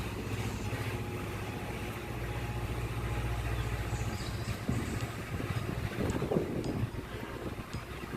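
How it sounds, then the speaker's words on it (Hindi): Strong wind blowing outdoors on a sunny day, a steady, fairly loud rushing roar buffeting the microphone throughout with no one talking. "मौसम अच्छा हो गया था, धूप हल्की थी और हवा तेज़ तेज़ चल रही थी।"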